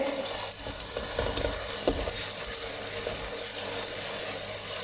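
Tomatoes and masala for a Punjabi potato, carrot and pea curry frying on a medium flame, a steady soft sizzle with occasional stirring scrapes, close and continuous with no talking.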